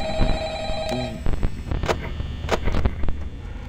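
Old-fashioned telephone bell ringing in the horror video game Five Nights at Freddy's, repeated rings among sharp clicks and bangs over a low background hum, with no talking.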